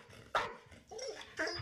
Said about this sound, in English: He measured Lily's bark with a dB meter